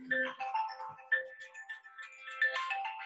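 A phone ringtone playing a short electronic melody of bright, stepping tones, moderately faint, alone in an otherwise quiet room.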